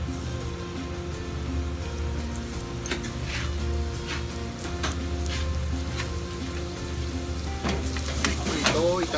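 Garlic frying over low heat in about two tablespoons of oil for a lettuce stir-fry gives a dense, steady crackling sizzle, with light stirring clicks and a few louder pops near the end. No one speaks.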